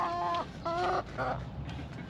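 Backyard chickens gathered around freshly dug garden soil give a few loud, drawn-out clucking calls close by, each about half a second long, with no speech over them.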